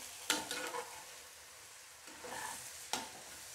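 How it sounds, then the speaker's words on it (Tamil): Ragi puttu being stirred in a pan over low heat, with a few soft scraping strokes of the spoon and a faint sizzle, close and quiet with no voices. "புட்டு போட்டு ஒரு கலர் கலரி விட்டுட்டு சிம்மில் வச்சுக்கலாம்"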